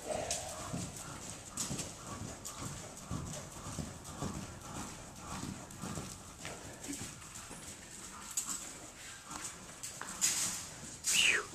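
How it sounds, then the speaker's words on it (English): A horse trots loose in an arena, its hooves making a steady, rhythmic clip-clop at moderate distance, with a faint whinny and a little background noise. "it's a beautiful trot he's got"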